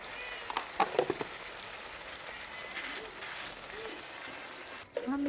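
Chicken curry frying in a pan in a village home kitchen after salt and turmeric go in, a soft steady sizzle with a few scrapes of stirring, then a brief voice near the end.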